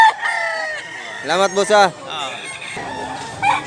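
Dragon Pumpkin Hatch gamecock rooster crowing loudly and close in one drawn-out call, with a voice speaking briefly before and after.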